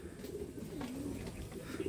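A racing pigeon coos softly at a loft during a derby training flight, a brief low murmur heard over steady outdoor background noise.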